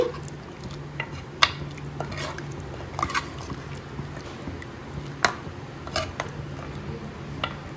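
A spoon slowly stirs goat head meat curry with brain in a pan, giving soft wet squishing and scattered sharp clinks of metal against the pan, with a low simmering hiss underneath.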